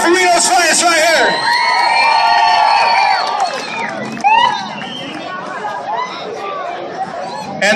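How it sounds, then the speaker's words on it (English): A crowd at an outdoor event cheers and whoops for Reno's Finest. Shouts and chatter rise loud and close, ease off partway through, then swell again in scattered cheers. "Give it up for Reno's Finest right here."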